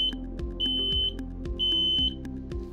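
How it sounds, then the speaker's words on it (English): High-pitched electronic beeps from a smoke alarm being tested sound in short repeated bursts, loud and close, over a steady rhythmic ticking and low hum. "You can check the batteries by holding down the test button until they bleep"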